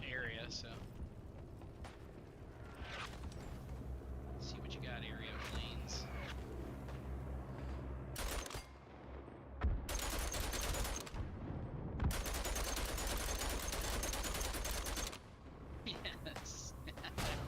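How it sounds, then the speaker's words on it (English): A called-in strafing run in a video game unleashes dense, sustained bursts of heavy gunfire and explosive rumble, coming in long loud volleys with short gaps, over a low game soundtrack. "I just called in a strafing run"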